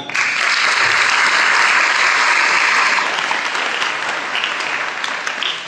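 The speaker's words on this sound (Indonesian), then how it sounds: "Tepuk tangan untuk Madrasatul Quran." An assembly at a Madrasatul Quran school orientation gives a round of applause, loud massed clapping that swells early, then gradually thins and fades toward the end, with no speech over it.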